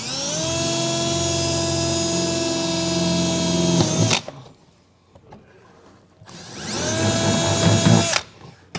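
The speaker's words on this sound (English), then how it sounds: "I'm just gonna run a pilot hole through, put the handle in and see how that looks" A power drill bores a pilot hole for an underbed turnover-ball gooseneck trailer hitch, whining steadily for about four seconds, stopping, then running again for two more seconds, close and alone.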